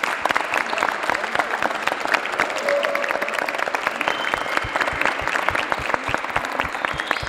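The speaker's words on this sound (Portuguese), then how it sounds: "Uma salva de palmas para essa molecada aí." Applause from a crowd in a school sports gymnasium honoring the boys' volleyball medalists, dense steady clapping sustained throughout at moderate distance, with no clear voices above it.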